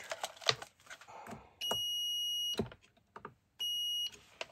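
A multimeter in diode test mode gives two sharp, steady high beeps, each lasting about a second, amid clicks and handling noises while probing a diode in an RGBW LED moving head light's power supply.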